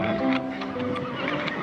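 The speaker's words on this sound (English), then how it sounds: "You listen to horse." A horse neighs in a Wild West setting, a clear whinny with tonal harmonics, close and loud, with faint hoof shuffling beneath and no talk.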